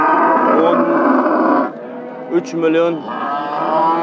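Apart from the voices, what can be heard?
cattle mooing at livestock market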